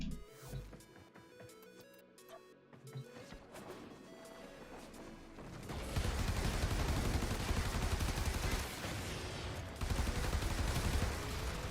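Gunfire from a secondary weapon with a gunslinger mod in a shooter video game, rapid dense bursts that start about halfway through and continue loud and steady over game sounds and music.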